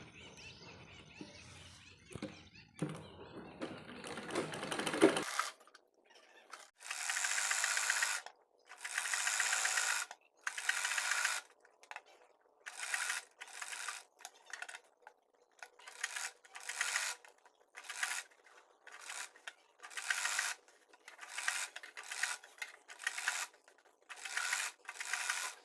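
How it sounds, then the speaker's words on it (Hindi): A sewing machine runs stitches along a fabric strip for a designer top, after a few seconds of low rumble and handling: repeated short bursts of rapid mechanical clatter, each lasting about a second, with brief pauses between them, close and clear. "अब हम इस पट्टी को इस तरह से नीचे की साइड में रखकर उल्टी साइड में इस तरह से सिलाई कर देंगे।"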